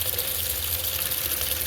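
Tap water pours steadily into a container outdoors, a continuous gushing, splashing flow at moderate loudness with no talk over it.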